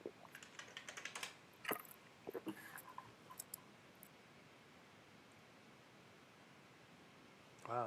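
Fast bursts of keystrokes on a computer keyboard clatter close and quiet in the first half, then taper to a few scattered taps before near silence and a final rustle.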